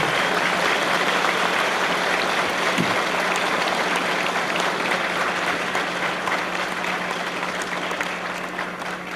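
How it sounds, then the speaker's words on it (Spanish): An audience at a political rally in Long Island, New York, claps long and hard, a dense, steady wash of applause that holds loud throughout and eases only slightly at the end. "Un aplauso para él."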